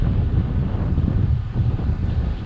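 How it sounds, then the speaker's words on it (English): Wind buffets the microphone on a road bike ride on a chilly, breezy sunny day, a loud, constant low rumble filling the whole stretch with no other sounds standing out. "It's a nice sunny day, but it's definitely chillier and breezy, as I'm sure you can hear."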